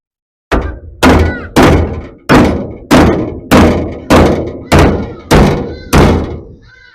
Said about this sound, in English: we'll hammer, dolly, tack, tack, tack, and fill these things